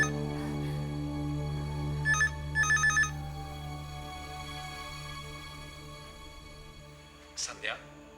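A telephone rings in two short trilling bursts over a steady low hum, followed later by a brief high chirping sound.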